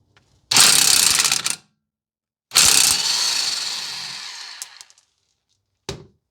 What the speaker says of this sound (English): I will be loosening the nut with a 15 millimeter